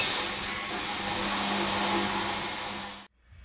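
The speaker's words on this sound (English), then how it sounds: "you last saw me put the calipers into the ultrasonic cleaner on a 30 minute cycle" An ultrasonic cleaner runs with brake calipers from a Mini One or Cooper inside, a loud steady buzzing drone that cuts off abruptly near the end.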